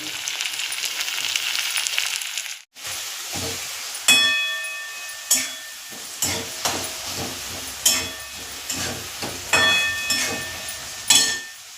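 Tomato, onion and garlic frying in oil in a pan, a steady hiss broken by repeated stirring bursts roughly every second, close by after a brief quiet gap.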